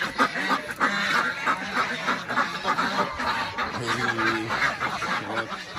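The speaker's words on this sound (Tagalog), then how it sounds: "So, ito yung mga peking duck natin." Pekin ducks on a mountain farm quack in a busy, overlapping flock chorus, calls rising and falling close by with steady ambient noise underneath.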